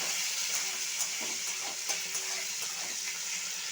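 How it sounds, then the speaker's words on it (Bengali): Chopped tomato with crushed cloves, cardamom and cinnamon frying in a pan for a vegetarian potol posto, a steady close hiss with faint crackles and no talking. "দিয়ে একটু টমেটো কুচি দিয়ে দিলাম, দিয়ে এটা ভেজে নেব।"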